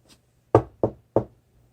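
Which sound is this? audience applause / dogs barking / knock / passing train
knock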